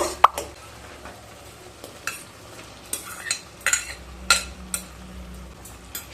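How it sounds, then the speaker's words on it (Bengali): Fried snake gourd pieces tipped into well-cooked spices in a pan for a malai curry: scattered clinks and scrapes of a spoon against metal, soft plops and a faint sizzle between the strokes. "এরপর ভেজে রাখা চিচিঙ্গেগুলোকে দিয়ে দেব"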